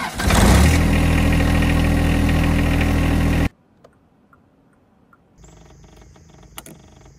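A John Deere tractor engine cranks and catches with a loud roar, then settles into a close, steady idle before cutting off abruptly into near silence and some faint clicks.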